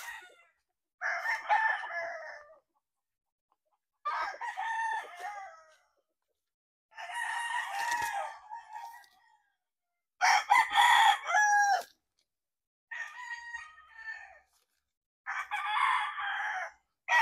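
A Sweater gamefowl rooster, bred from Boston Roundhead lines, crows repeatedly at a poultry farm, about six clear, evenly spaced calls near and loud with silence between them.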